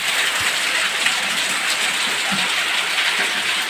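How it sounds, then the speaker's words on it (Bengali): Heavy rain pours steadily outside a home balcony, a dense, continuous hiss of water with no letup across the few seconds. "এত জোরে বৃষ্টি হচ্ছে"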